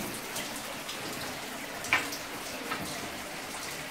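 Water from a stream runs through a newly discovered cave in Togüí, Boyacá, Colombia, making a steady, moderate wash of flowing water with a couple of faint drips and splashes.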